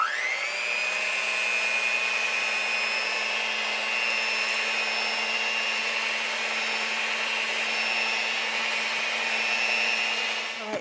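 A steady electric hand mixer whirs continuously through Pillsbury lemon lime loaf cake batter, a loud, even motor hum with no pauses and no talking.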